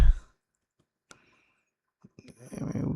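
A single soft mouse click clicking Next while installing VS Code on a computer. It is brief and isolated in near silence, with other faint noises and voice-like sounds after it.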